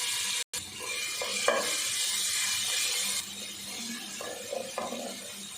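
Ginger and garlic paste frying in hot ghee in a pot over low heat: a hissing sizzle that is louder at first and then quieter, with a brief dropout near the start and a few soft stirring knocks.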